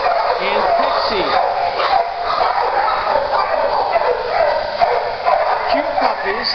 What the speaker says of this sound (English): Cute puppies that are Shepherd and maybe Sharpei.